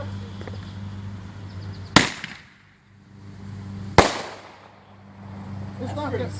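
Rapid Fire (Tommy Gun) roman candle fireworks go off outdoors with two sharp, loud bangs about two seconds apart, each with a brief ringing decay, over a background hum.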